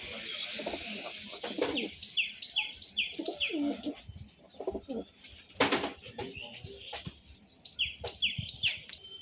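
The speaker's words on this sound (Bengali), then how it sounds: "এই একটা সবুজ চাপকা পায়রা আছে আর এই একটা জিরা পায়রা আছে।" Highflyer pigeons at a sale loft coo and chirp close by in repeated bursts, with sharp calls breaking through a quieter background.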